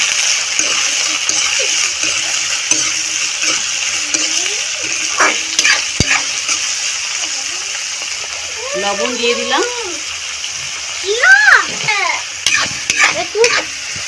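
Chopped tomato and onion fry in a pan with a steady sizzle, broken by stirring scrapes and splattering, while someone talks over the cooking.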